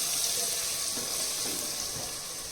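Dry masala frying over fairly high gas heat in a pot for veg pulao, a constant loud hissing sizzle that holds evenly throughout with no voices.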